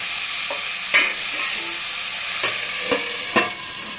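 Potatoes frying in a pan for alu posto give a steady close sizzle, with a few soft scraping stirs of the spoon rising over the constant hiss.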